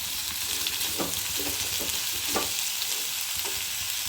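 Sliced raw plantain sizzles in a pan with sautéed onions for a Kerala mezhukkupuratti, with steady frying hiss and several soft scraping stirs, close and without talk.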